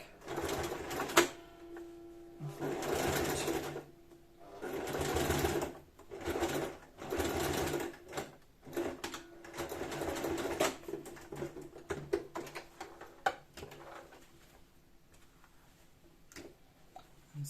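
A sewing machine stitches a fabric bottle carrier in several short bursts of rapid mechanical chatter, separated by brief pauses and small clicks and handling noises, close up and fairly quiet.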